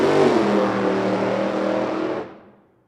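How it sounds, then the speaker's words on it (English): A Funny Car engine on a drag strip during testing, with the driver backing off the throttle because it ran poorly; a loud, rough engine drone holds steady and then fades quickly as the car coasts. "Car didn't sound right, so Alex gets out of the throttle."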